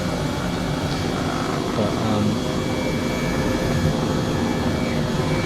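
Helicopter flying, a steady broadband engine and rotor drone holding level throughout, close and loud, with a brief spoken word over it.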